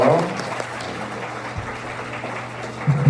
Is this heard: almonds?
no